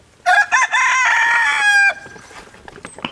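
A rooster crows loudly and close by in one long cock-a-doodle-doo, with a few clipped notes at the start, then fades into quiet outdoor background where red oak logs are being split.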